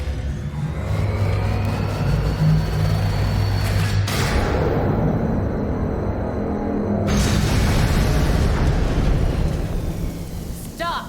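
A laser weapon firing and an explosion in Gotham Knights, a loud sustained roaring blast with rumbling, crackling texture, cut by a sudden sweep partway and a sharp shift near the end.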